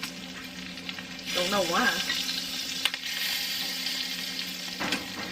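Potato pieces sizzle and fry in a hot pan, a steady crackling hiss that grows louder as they go in, with clinks of stirring and a brief voice over the top.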